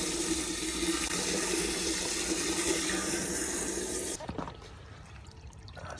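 Water rushing steadily through a Worcester Ri gas boiler during cleaning, a loud sustained gushing flow that cuts back after a few seconds to a quieter trickle with faint splashing.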